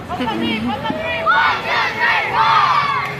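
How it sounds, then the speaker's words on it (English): Young children's cheer squad cheering at a youth wrestling match: a dense crowd of high children's voices shouting and chanting together, loud and continuous throughout. "our pups cheerleaders are cheering our wrestlers on."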